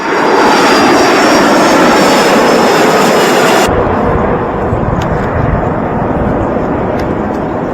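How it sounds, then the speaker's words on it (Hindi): A military airplane carrying a captured Venezuelan president lands, its jet engines roaring loudly and close before the sound abruptly drops to a lower, rumbling whine with voices faintly underneath. "ये विमान लैंड हुआ"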